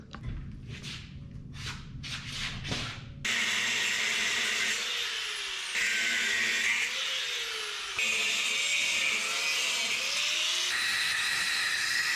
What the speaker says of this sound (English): So our brake line bracket there, I cut it with the cutoff wheel for a straight cut.